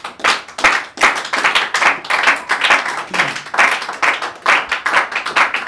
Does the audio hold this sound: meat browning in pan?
no